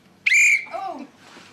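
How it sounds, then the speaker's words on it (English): A single loud whistle blast in a British soap-opera scene, short and shrill and held about a third of a second, then a fainter sliding tone that trails off. "Hope that wasn't the starting whistle."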